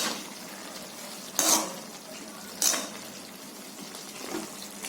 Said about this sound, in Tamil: சேர்த்துட்டு கரண்டியை வச்சு லைட்டாக ஒரு திருப்பிடும்.